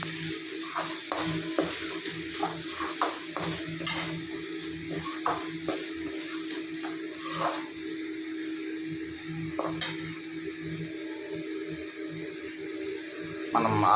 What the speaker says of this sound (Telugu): మనం ఆ చికెన్ వేసిన తర్వాత ఇలా కలయబెట్టుకోవాలి